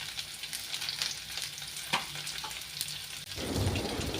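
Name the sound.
frying onion and cashew nuts in oil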